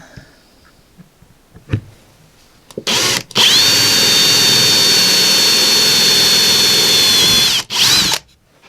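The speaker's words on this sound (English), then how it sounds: "So let's go ahead and drill these holes" A few faint clicks, then a loud power drill whirs steadily for about four seconds while drilling holes in aluminum and winds down, followed by a short final burst.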